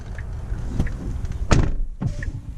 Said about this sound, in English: And then shutting the door.